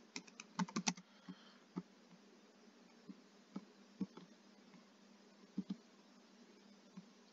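Faint computer keyboard typing, with scattered single and clustered key clicks spread irregularly over several seconds above a low, constant hum.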